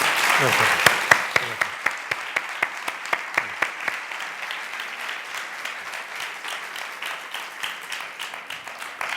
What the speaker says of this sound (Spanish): para quien les pido un aplauso